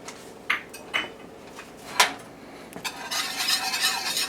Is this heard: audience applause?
no